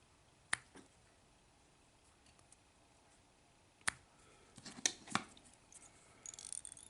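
A few sharp, faint snips of scissors trimming a foam beetle craft, spaced irregularly with quiet handling noise between cuts.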